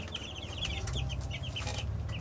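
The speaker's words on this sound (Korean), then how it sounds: "병아리들 있다. 아. 병아리들. 여기 치킨도 있다." Chicks and chickens clucking in a short run of repeated calls over a low, steady hum, fairly close and moderately loud.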